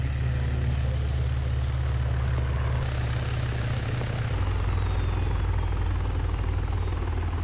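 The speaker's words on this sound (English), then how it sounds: "I believe that'll be Picker stealing your helicopter." Steady, loud helicopter rotor chop with a low engine drone in a video game, continuous throughout and sounding close, with a slight shift in pitch midway.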